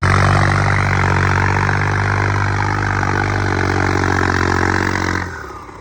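A loud diesel tractor engine chugs steadily at close range, its throbbing drone holding even before cutting off abruptly near the end.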